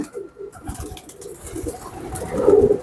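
Pet pigeons coo softly, with one fuller coo near the end rising over a low, noisy background.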